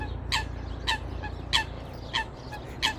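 Geese and swans on water: five short, evenly spaced honking calls ring out over a low, steady background rumble, moderately distant and fairly faint, with no voices.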